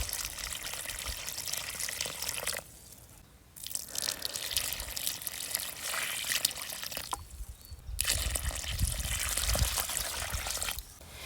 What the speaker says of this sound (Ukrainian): робимо тут таку канавку і доливаємо водичку